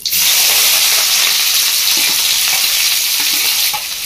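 Chopped onions, two medium ones, hit hot oil for a Bengali-style desi chicken kasa, giving a loud, steady sizzle with stirring scrapes throughout.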